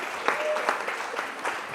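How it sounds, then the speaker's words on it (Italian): Studio audience applauding for Andrea Martini on a Ligurian sports TV broadcast: a steady wash of clapping hands runs through the whole stretch, with a few sharper claps standing out. "facciamo un applauso anche a Andrea Martini"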